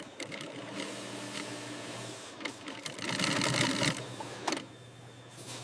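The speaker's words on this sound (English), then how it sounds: "Upper leather stitching process." A sewing machine stitches a leather shoe upper in a shoe factory, a quiet steady mechanical whirr in bursts that swells louder for a few seconds near the end, with faint shop background noise.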